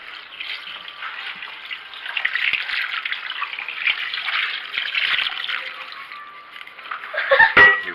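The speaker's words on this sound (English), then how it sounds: "You pour it in until it is it's covered in tomato juice" Tomato juice pours into a pan over Swiss steak seasoned with garlic powder, a steady close liquid splashing and trickling that swells into a louder gush near the end.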